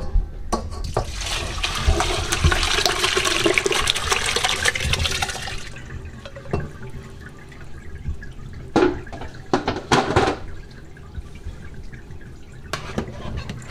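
Hot rendered lard poured from a heavy pot through a strainer, a steady liquid pour for about six seconds, then quieter trickling and scattered clinks and knocks of kitchen utensils.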